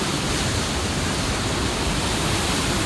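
Whitewater rapids on the Middle Fork Stanislaus River roar as a dense, steady, loud wash of rushing water that holds level throughout, with no voices over it.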